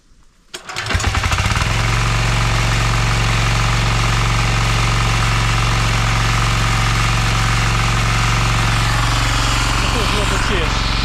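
A diesel walk-behind tractor that has sat unused since spring cranks and fires up, then settles into a loud, steady, rattling idle close by.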